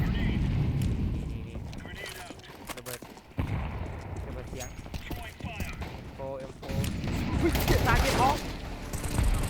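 Grenade blasts and gunfire in the video game Counter-Strike 2 come as rapid, repeated bursts and bangs, loud and busy, under excited talking from players.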